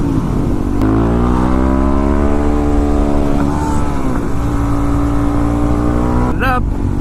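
A motorcycle engine is held at full throttle in third gear around 27 mph for a wheelie, its loud drone climbing steadily in pitch over constant wind buffeting, with a short burst of rumble near the end.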